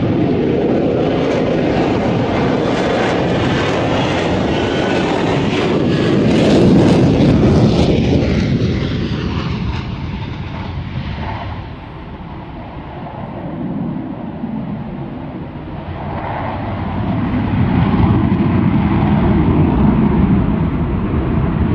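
An F-35B jet with a Rolls-Royce lift system makes a rolling vertical landing at an aviation show, a loud continuous engine roar that swells, eases and builds again throughout.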